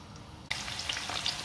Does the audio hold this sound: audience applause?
no